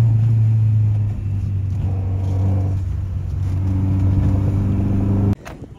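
Porsche Carrera RS cars drive in convoy on a race circuit during an autumn track day, a loud steady engine drone with a slight rise in pitch, heard from inside one car and ending in a sudden drop.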